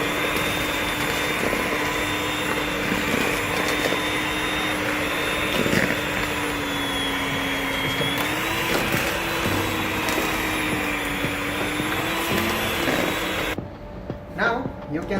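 An electric mixer whirs steadily as it works flour into cookie dough for vanilla chocolate Christmas cookies, its motor tone wavering slightly under load before cutting off near the end, followed by faint handling sounds.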